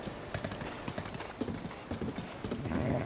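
A horse gallops in the video game The Legend of Zelda: Breath of the Wild, making rhythmic, close clip-clop hoofbeats at a steady pace that grow slightly louder toward the end.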